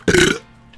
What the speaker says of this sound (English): I got another burp coming.